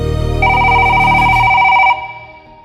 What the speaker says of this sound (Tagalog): tumunog ang telepono sa kanyang shop